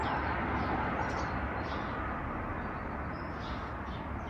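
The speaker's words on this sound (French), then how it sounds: "On entend les oiseaux, c'est agréable." Faint birdsong drifts outdoors on an autumn day, with scattered high chirps over a constant rushing background hiss.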